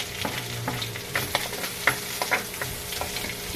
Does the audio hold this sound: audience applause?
no